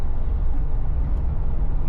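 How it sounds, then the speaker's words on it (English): A car with a worn CV joint drives the gravel Denali Highway, giving a steady, loud, broadband road-and-drivetrain rumble heard close from inside, with no voices. "CV joint's starting to make quite a bit of noise."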